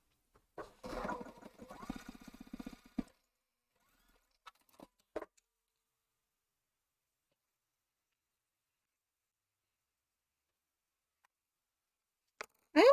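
A sewing machine runs in one short burst of rapid, close mechanical whirring lasting about two seconds, followed by a few faint clicks and then near silence.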